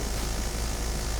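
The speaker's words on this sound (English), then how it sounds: "Helicopter." A transport helicopter in the game BattleBit roars close by, a dense, loud, unbroken rotor-and-engine drone that fills the brief moment with no talking.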